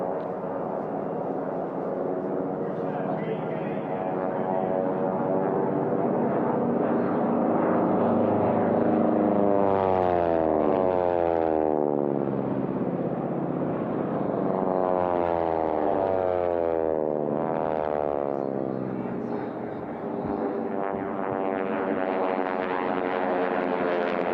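Racing airplanes at the Reno air races, T6 class, fly wingtip to wingtip in a loud, sustained propeller drone whose pitch sweeps up and down repeatedly as the aircraft pass, with no talk.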